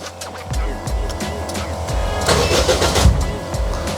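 A Kia Rio engine cranks and catches, then idles and swells slightly, loud and close with a brief rising push near the end.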